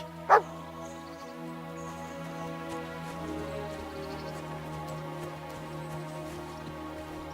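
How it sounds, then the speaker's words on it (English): A dog in the video game Kingdom Come: Deliverance II gives one short sharp bark early on, over a steady bed of game ambience and faint rain-like patter. "Barking."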